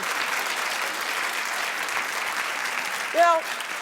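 Studio audience clapping on a daytime talk show during a hot-topics segment, a sustained, even burst of applause from a live crowd with a brief higher voice cutting in near the end.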